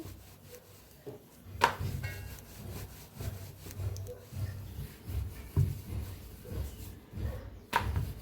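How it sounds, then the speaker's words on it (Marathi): Chapati dough is rolled out with a rolling pin on a dry-floured surface, giving a steady series of soft, low rubbing strokes back and forth with a few sharper knocks, close by and with no talking. "दोन्ही साईडला फिरवून छान चपाती लाटून घ्यायची."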